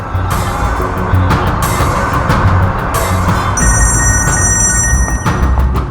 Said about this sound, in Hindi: जी फोन भी नहीं उठा रहे हैं।